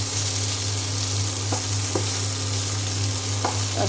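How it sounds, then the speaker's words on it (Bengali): Eggplant slices frying in a wok, a dense steady sizzle with a low continuous hum under it and a few faint spatula taps, close and loud, no speech. "এইখানে এই যে বেগুন ভাজি করে নিচ্ছি।"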